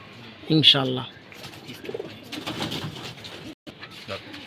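Racing pigeons coo in a loft, one loud close burst of cooing early, then softer coos and fluttering while people talk nearby.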